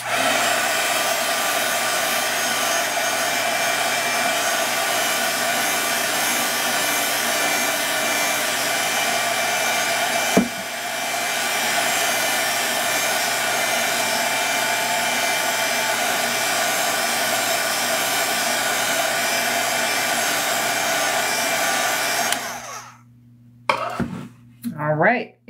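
A hair dryer blows steadily and loudly on a watercolor painting of a saguaro cactus for over twenty seconds with one brief click midway, then shuts off with a few faint handling sounds at the end.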